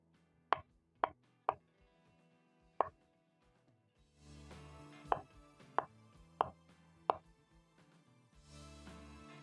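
Knife strokes through avocado on a cutting board, about eight sharp, separate knocks at an irregular pace, close and fairly loud, with a low background hum building partway through.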